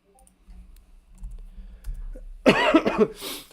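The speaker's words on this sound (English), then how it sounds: "That cough, man, I still can't shake it though" A few soft clicks and rustles, then a short burst of close, harsh coughing near the end.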